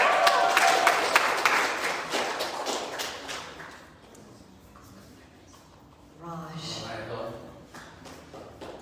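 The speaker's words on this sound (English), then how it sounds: "guys clap for Raj for the challenge." Audience clapping at a winter challenge party, a burst of many hands for roughly the first three seconds, then fading out before voices and chatter take over.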